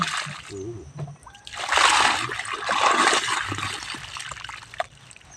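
Water splashing and sloshing while a banana plant is set in the ground in a village: loud, close pouring and splattering that swells, then trails off into drips, with a brief voice near the start.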